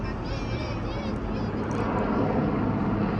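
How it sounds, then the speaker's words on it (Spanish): A helicopter passes over the new Santiago Bernabéu stadium in Madrid, a steady, broad engine and rotor drone that swells slightly toward the end, heard from a distance at moderate volume. "Un helicóptero."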